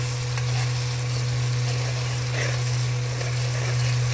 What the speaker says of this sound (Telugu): సిమ్లో పెట్టుకొని ఫ్రై చేసుకోండి. మసాలా చూడండి, బబుల్స్గా వస్తుంది.